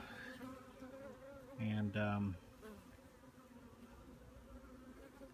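Soft, steady buzzing of honey bees in an opened Warre hive, faint and close, with a brief louder tonal hum partway through and a single spoken word.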